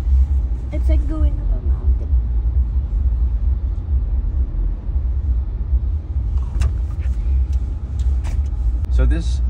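A Foton Tunland V7 pickup drives slowly in low range with a low, steady engine and road rumble. People talk over it at times.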